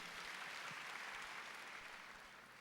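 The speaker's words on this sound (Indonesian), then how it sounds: "Beri tepuk tangan yang meriah betul." Congregation applause during an evening prayer church service, a steady wash of clapping heard alone, fairly faint and fading slightly toward the end.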